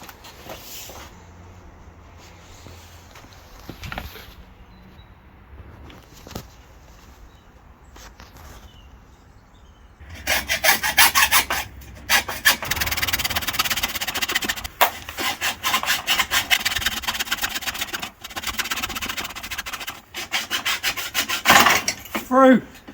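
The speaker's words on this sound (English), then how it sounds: "Hacksaw, it's almost through." A hacksaw rasps steadily through metal stock on an e-bike build, loud back-and-forth strokes starting after quiet handling noises, continuing close and rhythmic to the end.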